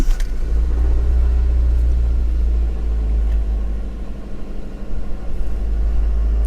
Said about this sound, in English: Let's see if we can get this one to fire up.